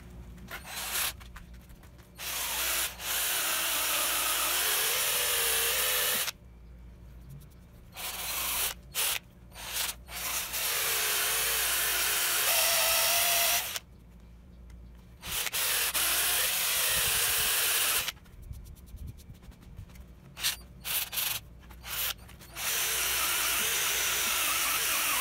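Power tool with an 80-grit sandpaper attachment sanding a headless electric guitar body, a loud abrasive hiss and whir that runs in bursts, stopping briefly several times between long passes.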